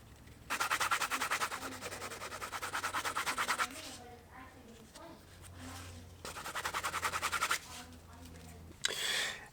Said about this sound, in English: Now I'm just going to take a little time and burnish just the inside bits here